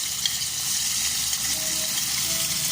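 Garlic sizzles in hot oil in a pan for a Filipino chicken wing tinola, a steady close frying hiss with no talk.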